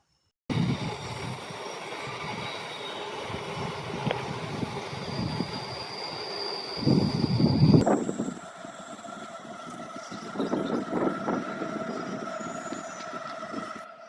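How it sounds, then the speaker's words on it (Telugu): A metro train passes outdoors as a steady rumbling roar for several seconds, swelling, then shifting to a lighter rolling hum with wind noise and no talking. "ఇప్పుడు మెట్రో ట్రైన్స్ వస్తే చూద్దాం"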